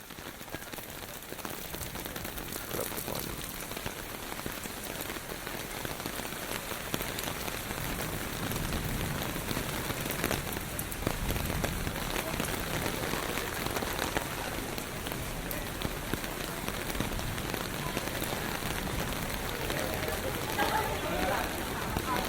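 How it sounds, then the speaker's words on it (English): Steady rain falls during a walk around Tokyo, a continuous dense hiss and patter on surfaces, with indistinct people talking in the background throughout. "It was just a Tokyo walk around with the rain."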